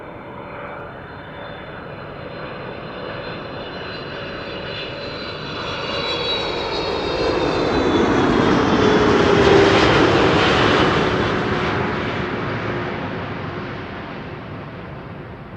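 A KLM Boeing 747 takes off at Amsterdam Schiphol Airport, its jet engine roar swelling from a distant rumble to a loud broad peak and then slowly fading, with no talk over it.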